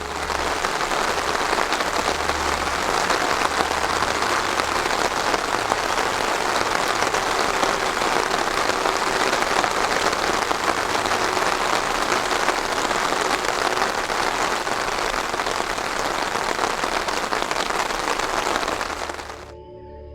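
Heavy rain falls steadily across the Amazon rainforest, a dense, even hiss that holds for about twenty seconds before fading abruptly at the end.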